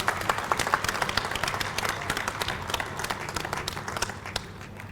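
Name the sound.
audience clapping at hotel event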